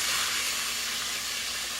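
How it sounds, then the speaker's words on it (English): A chuck pot roast searing in a hot pot gives off a steady, even hiss of sizzling fat, close and continuous for a brief moment with no talk. "I'm just going to sear it for a few minutes"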